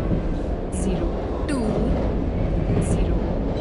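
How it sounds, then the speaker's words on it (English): A passenger express train arrives at a platform of a busy Indian railway junction. Loud, continuous rolling rumble with a few brief high screeches from wheels or brakes cutting through. "passenger express is arriving at platform number 3"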